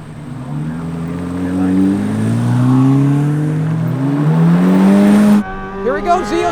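A Chevrolet C8 Corvette Z06 with the Z07 package on a race track, its engine revving steadily higher to a loud scream, then the pitch drops abruptly at a gear change; a voice talks over it.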